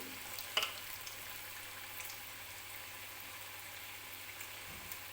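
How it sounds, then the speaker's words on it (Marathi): Maharashtrian bhaji fritters fry in oil over medium heat, a quiet, even bubbling sizzle held steadily with a few small spits and clinks, nearby and without talk. "आणि मीडियम आचेवरतीच हे भजी जे आहे ते मी तळून घेणार आहे."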